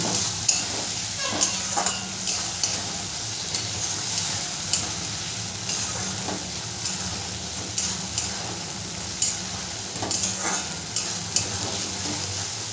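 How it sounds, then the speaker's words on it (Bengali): Potatoes stir-fried with ginger and green chili paste in a pan for banana flower curry, a continuous close sizzle with a spatula scraping and clacking in an uneven rhythm. "খুব ভালো করে আলুর সাথে মশলাটাকে কষিয়ে নেব।"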